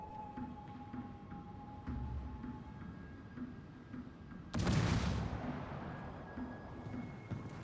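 A destroyer's naval guns in World of Warships fire one loud, sudden blast that rolls off into a rumbling decay, rising over a steady low background of ambient battle noise.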